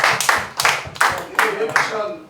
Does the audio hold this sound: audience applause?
yes